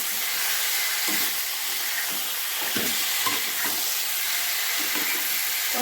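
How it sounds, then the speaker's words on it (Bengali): Pointed gourd and prawn masala with salt sizzles steadily in a pan, with spatula stirs and scrapes scattered through it, close and moderately loud. "ভালোভাবে কষিয়ে নিচ্ছি।"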